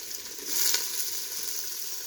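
Small shallots go into a hot pan for mutton nombu kanji, a brief hissing sizzle that swells for a moment and then settles into a steady fry.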